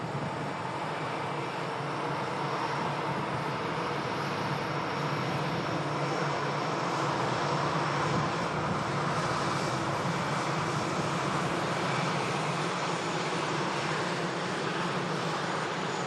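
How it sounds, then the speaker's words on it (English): A TUI Dreamliner jet begins its takeoff roll at Manchester Airport, a steady, even engine roar heard from a distance that holds throughout with no talking. "TUI Dreamliner starting a takeoff roll now."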